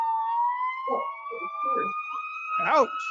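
A fire truck siren passes by with a loud, rising wail that holds steady. Voices speak briefly over it and a sharp exclamation comes near the end.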